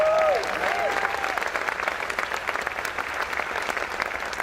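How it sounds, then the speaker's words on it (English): An audience at a political speech in New Mexico breaks into sustained applause, dense clapping from a large crowd that holds steady for several seconds after a brief opening. "Can you give a round of applause for that?"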